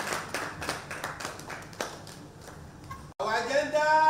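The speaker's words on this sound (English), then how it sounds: "A round of applause for her" Scattered hand claps from an audience at a Lagos State labour congress event, a few irregular claps over crowd murmur, then a noisy burst of louder room sound toward the end.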